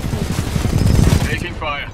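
Rapid automatic gunfire in Titanfall 2, a dense burst of close shots that fades, with a voice speaking over the end of the volley.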